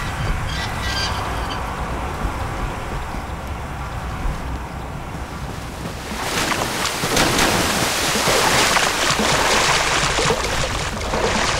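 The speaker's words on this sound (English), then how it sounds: "That splashing is the scariest thing I've ever heard." Water splashes and churns in the video game F.E.A.R., a dense rushing, sloshing noise that swells and grows louder partway through and continues steadily, with no talking.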